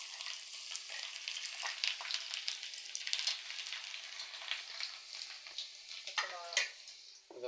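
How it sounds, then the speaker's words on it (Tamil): Chopped garlic sizzles and crackles steadily as it fries in oil for a chilli gobi dry, a continuous close frying hiss with occasional stirring ticks and no talk. "அது பூண்டு அதை போடுறோம்."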